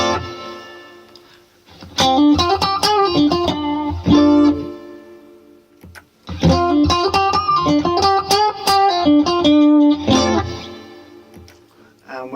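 Electric guitar played through a BluGuitar AMP1 with the gain turned up, slightly driven chords and picked phrases in two close, loud passages separated by a short gap.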